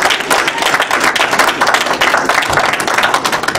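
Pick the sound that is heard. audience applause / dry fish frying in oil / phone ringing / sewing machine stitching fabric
audience applause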